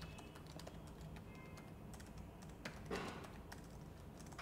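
Typing on a computer keyboard, a quiet steady patter of key presses with a few louder taps, heard alone at low level.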